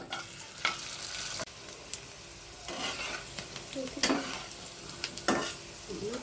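Sabudana papad crackles and sizzles steadily in hot oil, with occasional sharp pops and soft stirring scrapes, close and alone with no talking.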